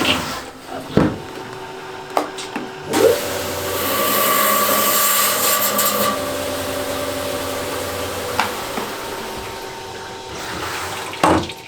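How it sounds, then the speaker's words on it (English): A rock saw cuts a Mexican Laguna agate in half, a steady whining grind with a strong tone running for several seconds after a few knocks, then winding down, with water-like hiss throughout and no speech. "I will put it in the saw like this and then get 2 nice halves out of it"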